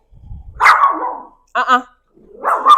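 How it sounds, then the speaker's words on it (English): A dog gives three sharp, insistent barks close by, spaced with short pauses, the middle one higher and yelping. "when she wants attention, we are doing this demand barking"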